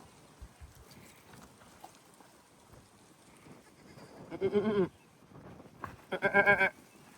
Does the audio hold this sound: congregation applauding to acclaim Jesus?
no